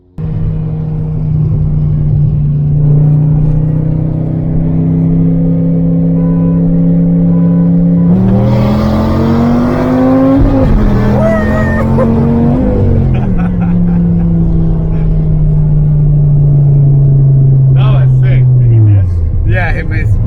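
Dodge Viper ACR and Corvette ZR1 engines rumbling loud and close, a sustained drone that rises in pitch as one revs and accelerates, then holds and drops off near the end.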